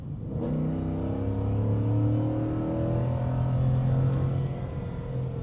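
A boosted Ford F-150 truck engine revs loudly and steadily close by, its pitch climbing and holding in a sustained roar with no talking.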